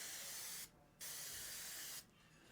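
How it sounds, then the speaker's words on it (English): A Sure Shot sprayer fitted with a 501 flat spray nozzle releases loud, steady bursts of hissing spray, with a short pause between a first and second burst and a brief gap before a third begins. "This is going to be a flat spray."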